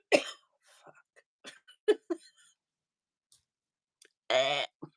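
A single person indoors clears their throat and gives short coughs between brief spoken words, ending in one louder, longer cough near the end, close and clear against silence.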